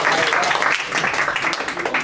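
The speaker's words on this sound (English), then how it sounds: "Let's give him a round of applause." A class group gives a round of applause, a dense, steady wash of clapping with voices and chatter mixed in throughout.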